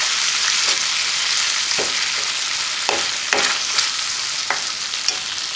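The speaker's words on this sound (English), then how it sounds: "mix it" A spoon scrapes and stirs rasam powder through tomato rasam sizzling in a pan, with several short scraping strokes over a steady frying hiss and no talk.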